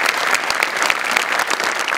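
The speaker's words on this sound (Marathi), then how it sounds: "जोरदार टाळ्या सुपर" A studio audience at a Marathi comedy show bursts into loud, dense applause, steady clapping from many hands held close and full for the whole stretch.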